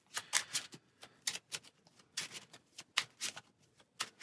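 Playing cards for the Marvel Champions card game are shuffled in a run of quick riffling bursts, crisp and close, repeating in several short rounds with brief pauses between.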